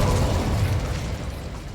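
In the Hogwarts Legacy video game, an Incendio fire spell goes off as a loud whooshing burst that starts strongly and fades over a second or two.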